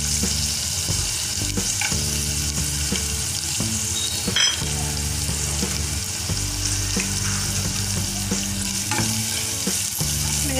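Carrot pieces frying in ghee for a ginger garlic soup, with a steady close sizzle throughout and repeated scraping stirs of a spoon in the pan, no voices.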